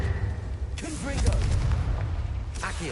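A Confringo fire spell blasts in Hogwarts Legacy, giving a booming burst with a crackling tail amid game sounds, while a voice speaks nearby.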